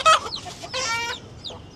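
Hens cluck and squawk in sharp, agitated bursts while fighting, close by with no talking.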